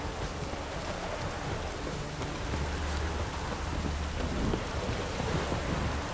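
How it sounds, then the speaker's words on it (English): Steady, dense rainstorm with low rolling thunder rumbling underneath, heard alone in The Witcher 3 video game with no voices, the downpour hissing evenly throughout. "A storm. Damn it."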